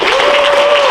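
Crowd applause at a country music show: a dense, continuous wash of clapping from the audience, with a steady sustained tone running beneath it for about a second.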